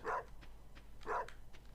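A dog barking in the Stardew Valley farming video game, two short clear barks about a second apart with faint yips between, quiet and alone without talk.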